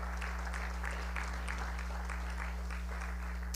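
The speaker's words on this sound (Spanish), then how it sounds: "Den un aplauso al Señor." Church congregation applauding the Lord during a Spanish-language service, soft rhythmic clapping sounding distant and thin beneath a strong steady electrical hum.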